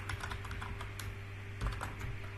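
Fingers type on a computer keyboard in quick, irregular clicks over a faint steady electrical hum, quiet and close, with no one speaking.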